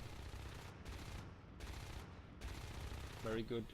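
Rifle fire in the video game Natural Selection 2 during a competitive league match, quick bursts of shots in several bands separated by brief gaps, with a creature screech near the end.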